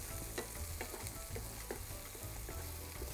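Garlic and onions sizzle and fry in a pan while being stirred, a steady close crackle with soft periodic scrapes of the utensil, and no voice.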